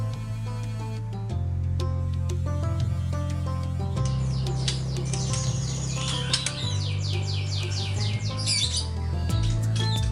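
Birds squawking and chirping at a bird boarding hotel in Yogyakarta, a busy chorus of sharp repeated calls layered over a steady low background hum.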